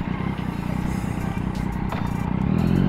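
A Yamaha MT-09 with an inline-three engine idles and burbles through its exhaust in a steady, close, loud rumble, with a slight rise in intensity toward the end.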